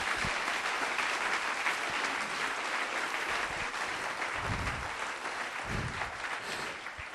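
A church congregation applauds with even, moderately loud clapping that holds steady for several seconds before gradually softening.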